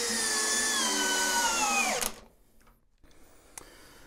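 An Ingco cordless impact drill runs loud and close on a torque test rig, a high whining motor that slows in pitch for two seconds before cutting out, followed by a quiet tail with a faint click.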